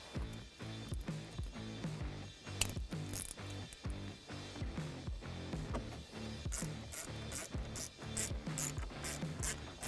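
Factory mounting hardware is fastened down at the corners of a 2015-2019 Ford F150 head unit during a touch-screen install, giving a steady run of quick, close ratcheting clicks with no talking.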